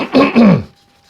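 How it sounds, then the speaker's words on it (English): A person gives a brief, throaty cough or throat-clear, two close bursts in quick succession, near and fairly loud, then quiet. "There's nothing worse than having a little cough"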